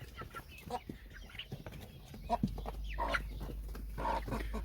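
Hens and chicks in a coop during plague vaccination, clucking and soft peeping calls scattered over a low background hum, close and fairly faint.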